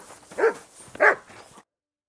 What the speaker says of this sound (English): Doggy, good boy. Wanted to break in here, did you? You can't be here.